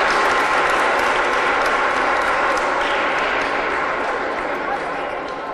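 Sustained applause from a crowd fills the whole stretch, dense and loud, tapering off slightly at the end.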